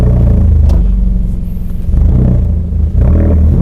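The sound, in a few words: Mazda 3 hatchback catback exhaust revving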